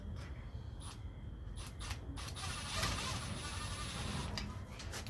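A small screwdriver turns the screws of a door knob, giving faint close ratchety creaks and small clicks in uneven bursts over a quiet room background, with no talk.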